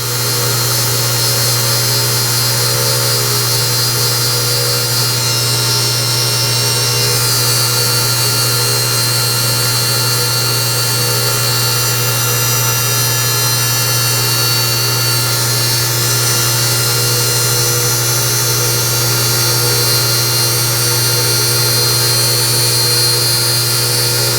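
Steady, continuous grinding of a flat onto a steam wagon part, fed a thousandth of an inch at a time: a loud, unbroken mechanical whine with a strong low hum running through the whole clip, no talking.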